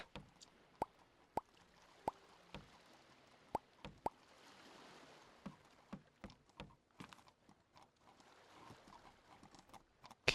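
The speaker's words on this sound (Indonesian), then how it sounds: "Kita panggil aja kuda kita." Horse hooves clip-clop in the Old Market Simulator video game, sharp sparse knocks at first giving way to a quicker, softer patter of steps.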